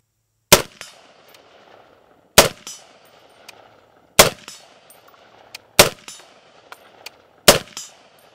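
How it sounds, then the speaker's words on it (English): A CMMG Mark III rifle fires .308 rounds outdoors as five loud, sharp single shots spaced about one to two seconds apart, each with a short ringing tail and faint metallic clinks between, without talk. "Shooting 308A."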